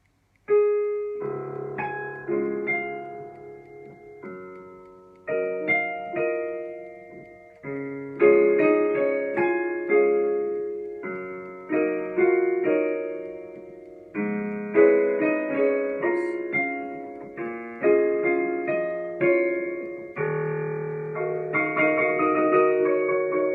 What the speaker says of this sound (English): Claude Debussy also wrote Clair de Lune, which sounds like this